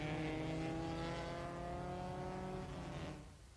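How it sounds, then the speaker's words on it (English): Lancia-Ferrari Formula 1 race cars from 1957 pass on the Nordschleife at the German Grand Prix, their engine note dropping in pitch as they go by, heard fairly faintly. "Hawthorn and Collins storm by to a handsome lead."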